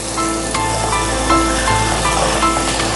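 Onions sizzle and fry in a pan for tamarind chicken, a steady close crackle with small pops and faint stirring scrapes.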